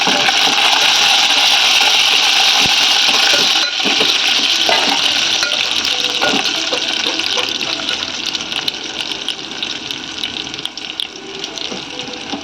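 Lentils frying and being stirred in a pan for a Telugu drumstick dal, giving a loud continuous sizzle with scraping stir strokes that eases somewhat toward the end, no talking.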